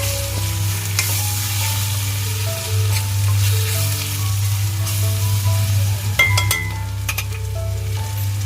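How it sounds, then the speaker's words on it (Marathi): Cashews sauté in a hot pan with turmeric and garam masala, giving a steady loud sizzle with occasional stirring scrapes and a few light metallic clinks, no talking. "थोडा गरम मसाला घालते काजू गरम मसाला मस्त चांगला तर परतून घ्यायचा आहे"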